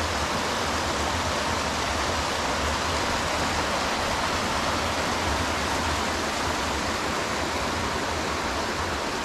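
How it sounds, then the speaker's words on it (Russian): A strong current of the Chernaya River pours into the Chernorechenskoye reservoir in Crimea's Baidar Valley. The broad, unbroken roar of water stays close and constant throughout, with no talking. "Здесь у нас река Черная. И достаточно хорош поток воды, идущий в водохранилище Чернореченское."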